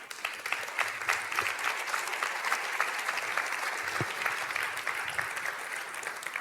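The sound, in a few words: audience applause for Laurent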